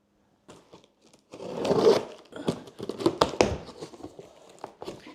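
Crinkling and rustling of packaging with sharp snipping and tearing bursts, close up, irregular, no talking.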